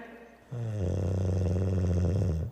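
An elderly grandmother gives a loud, deep, rattling snore, one long sustained drawn-out breath that swells in suddenly and holds steady at full strength before cutting off.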